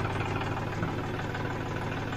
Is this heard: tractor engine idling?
yes